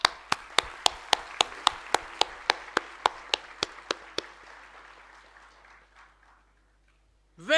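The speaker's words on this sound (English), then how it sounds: "you deserve a real round of applause." Sharp claps land in a steady, evenly spaced rhythm in a reverberant convocation hall, about fifteen in a row, then fade into a long echo tail and near silence.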